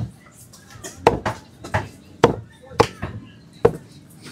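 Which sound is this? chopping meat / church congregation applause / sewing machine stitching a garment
chopping meat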